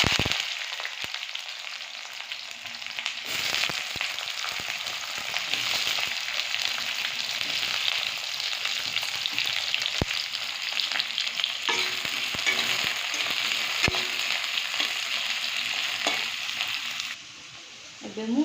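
Chopped onions frying in hot oil for chilli cabbage, a steady loud sizzle with occasional stirring clatter and brief spoon knocks, quieting slightly at the end.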